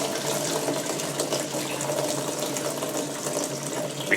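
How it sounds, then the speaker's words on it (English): Coolant pours steadily out of the radiator of a Land Rover 300Tdi, a continuous, fairly loud splashing rush of liquid that holds even throughout, with no talk. "And you can see we can drain the whole radiator off by doing this."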